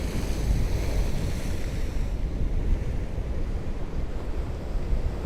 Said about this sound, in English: So the best waves are happening just over to the left, just out of shot right now.